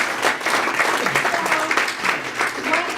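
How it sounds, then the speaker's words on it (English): An audience at a real estate talk applauds, steady dense clapping that carries evenly throughout, with a crowd murmur mixed in. "Give her a round of applause."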